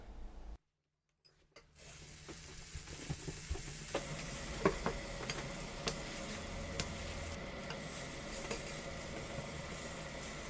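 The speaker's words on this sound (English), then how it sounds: "fry a piece of bread on a frying pan with generously amount of butter" Bread sizzles in butter in a pan, a steady hiss with scattered crackles and pops, after a brief quiet moment at the start.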